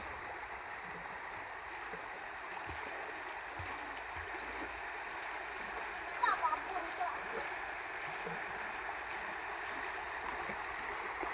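Sungai Julau river, slightly murky after overnight rain, flowing with a steady broadband rush heard close and continuous, with a few faint splashes partway through.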